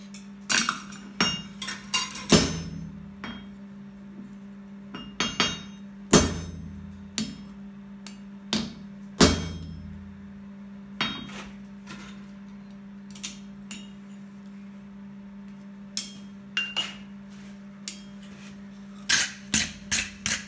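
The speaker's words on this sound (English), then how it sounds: "So next thing is punch our holes and make our offset" A hammer punches holes in farrier's tongs at the forge: irregular, sharp metallic strikes, some in quick clusters and others spaced seconds apart, over a steady low hum with no talking.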